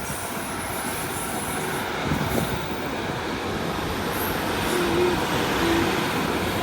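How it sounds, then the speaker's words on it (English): A Class 153 diesel railcar departs a station platform at Newark Northgate bound for Lincoln, a continuous rumbling engine and wheel noise that swells gradually, with a couple of brief squeals near the end. "So leaving now is that train on platform 3 that I filmed earlier."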